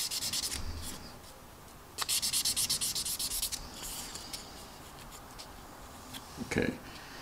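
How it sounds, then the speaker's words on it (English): Sandpaper rubbing along the canopy seam of a 1/32 Tamiya F-16CJ plastic model kit, short quick back-and-forth scratchy strokes in bursts, close and faint. "Okay, so there you can see where I kind of sanded it out."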